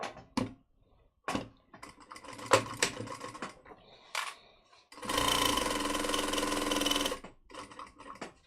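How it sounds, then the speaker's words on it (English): A sewing machine with an overfilled bobbin runs in a steady two-second burst near the middle, framed by short clicks and taps of handling the fabric and machine before and after. "My bobbin sounds a little weird because I overfilled it."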